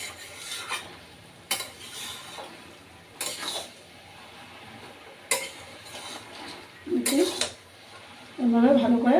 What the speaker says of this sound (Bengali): দেখুন এইভাবে আমি মোচাটা নাড়াচাড়া দিয়ে নিচ্ছি।